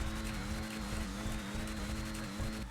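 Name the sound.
race car engine in a video game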